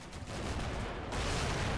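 Artillery barrage and gunfire in the wargame Combat Mission Black Sea, a dense continuous rumble of distant shell impacts and crackling small-arms fire, steady and loud for under two seconds with no talk.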